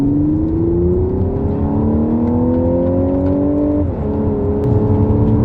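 An Audi S4 Avant Black Edition engine on the road sounds as a loud, steady drone whose pitch climbs smoothly, then drops sharply at a quick upshift before settling again, heard from inside the car with no talk.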